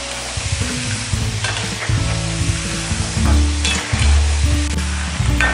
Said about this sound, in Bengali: মিডিয়াম আঁচে আমরা বুরিন্দাগুলো ভেজে নেব